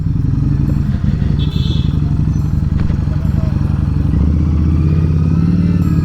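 A Harley-Davidson Street 750 fitted with a Vance & Hines exhaust, riding in Assam, its loud, throbbing engine close by and steady throughout, with rapid firing pulses and a shift in pitch toward the end.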